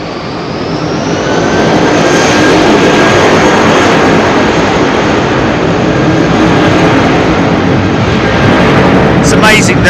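A heavy jet airliner departs runway 27R at London Heathrow, its engine roar swelling quickly and then holding loud and steady as it climbs away, with no talk over it.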